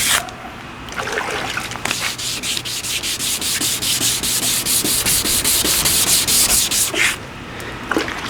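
A car headlight is hand wet-sanded, with rapid rhythmic back-and-forth rubbing strokes, close and loud, that continue for several seconds before stopping, with light wet gritty scraping.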